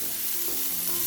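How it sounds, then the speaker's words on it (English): Onions stir-fry in a pan as a short burst of dense, even sizzling, close and loud with no talk. "and I will stir fry it till it becomes golden brown"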